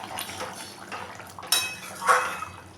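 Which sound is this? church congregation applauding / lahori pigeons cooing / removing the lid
removing the lid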